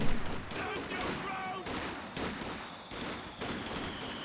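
Rapid bursts of machine gun fire in the video game Company of Heroes 2, loud repeated rattling volleys with brief pauses between them, plus distant battlefield shots.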